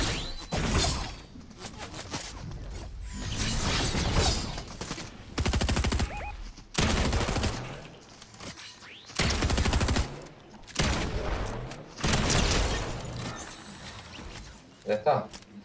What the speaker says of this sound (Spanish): Le están disparando, le están disparando.